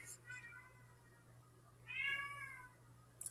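A house cat meows twice, a short call followed by a longer, louder drawn-out meow, close by in a quiet room with a faint background hum.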